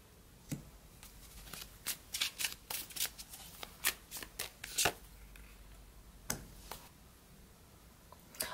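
An oracle card deck is shuffled close by, with a run of quick crisp riffles and flicks at an irregular rhythm, loud against a quiet background and with no talking.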